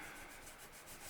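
Very fine 4000-grit sandpaper rubbing across worn, divoted guitar frets, a soft continuous hiss of close sanding with faint rhythmic strokes.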